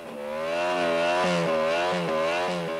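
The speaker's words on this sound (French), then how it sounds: "Le pilote retient sa moto tout en accélérant" Motorcycle burnout at the 1992 Bol d'Or, the rider holding the bike while revving hard, a loud sustained engine roar that rises and dips in pitch in repeated surges.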